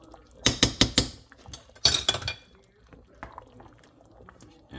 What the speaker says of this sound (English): we're putting our tomato sauce in now